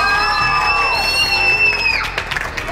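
A loud school audience cheering and whooping, with high sustained shouts and some clapping mixed in, energetic and close throughout.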